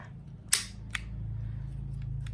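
A Hi-Capa 5.1 airsoft pistol has its safety clicked on, giving one sharp, close click followed by a softer second click over a steady low background hum.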